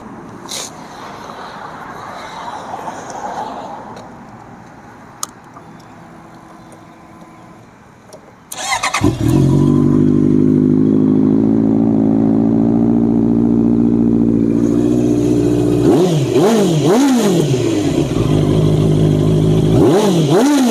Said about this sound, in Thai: เราฟังเสียงท่อครับ